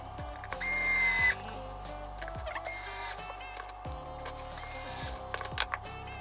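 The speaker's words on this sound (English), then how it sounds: "I'm going to install this screw first." A power screwdriver drives a screw into a Traxxas Slash 4x4 LCG chassis in three close, whirring bursts, each about half a second, with quiet handling between them.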